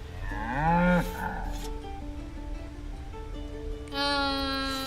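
A cow in the video game Baldur's Gate 3 gives a loud, drawn-out moo that swoops upward and then falls. After a quieter stretch, a second moo begins near the end.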